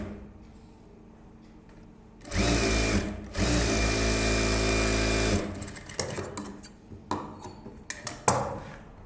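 A sewing machine runs in two steady bursts while stitching a lining piece onto a blouse front, close and loud, with a short pause between runs and then scattered handling clicks and taps.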